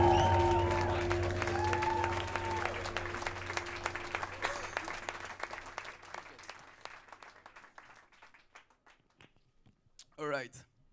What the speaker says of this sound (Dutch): Applaus voor uzelf.